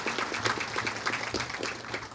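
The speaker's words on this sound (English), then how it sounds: "Let's give them a round of applause here today." A live audience at a press event applauds in a steady, dense patter of many hands clapping together, moderately loud and sustained throughout with no voices over it.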